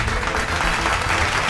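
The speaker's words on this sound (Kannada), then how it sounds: "ಜೋರಾಗಿ ಚಪ್ಪಾಳೆ ಮೂಲಕ ಅವರನ್ನ ಸ್ವಾಗತಿಸಿ" A studio audience gives loud, continuous applause to welcome an actress as a guest, a thick wash of clapping from many hands with no pauses.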